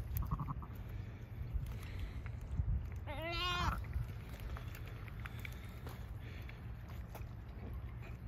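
A ewe that has just given birth to lambs in a pasture gives a single wavering bleat, fairly close, over a low steady rumble of outdoor background noise.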